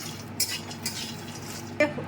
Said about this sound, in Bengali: এবার আমি এই কাজু কিশমিশগুলো সব ভাজা যেগুলো ছিল, বাদাম, আমন্ড, সেগুলো দিয়ে দিলাম, মিক্স করে নিচ্ছি।